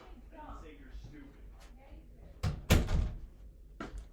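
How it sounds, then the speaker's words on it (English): An indoor door is pushed shut in a home with a loud family, a solid thump and short rattle standing out sharply after a stretch of quiet room noise and background voices. "Hold on, let me close that door."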